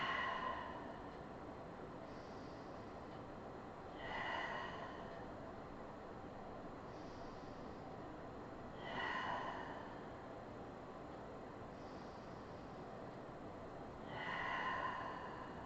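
Slow, deep breathing during a yoga stretch, with long, soft breaths recurring about every five seconds over faint background hiss.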